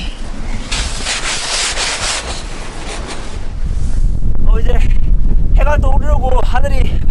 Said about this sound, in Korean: 현재 바람이 엄청 불어서 어, 상당히 춥습니다